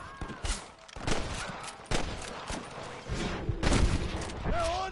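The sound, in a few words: gunfire shootout in video game Red Dead Redemption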